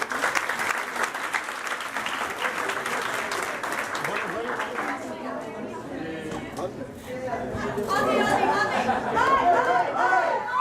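An audience claps for a singer: dense applause fades after a few seconds into chatter and scattered voices, then swells again toward the end.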